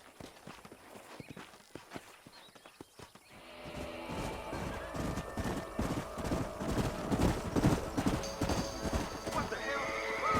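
Horses in the video game Red Dead Redemption: quiet hoof clops at first, then a loud, busy run of galloping hooves and whinnies, with voices mixed in among the herd.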